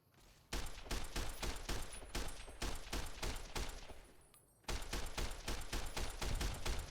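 Rapid, dense gunfire from the video game Fallout New Vegas, a steady stream of shots that briefly thins out before resuming at full loudness, close and continuous with no talk.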